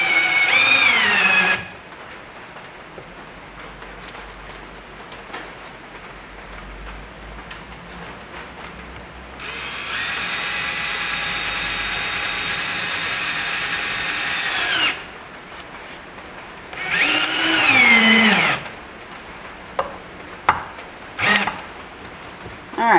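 Electric drill of a different brand whines in several bursts during a repair of a broken pivot arbor on a Sessions clock movement, with a long steady run in the middle and short blips near the end.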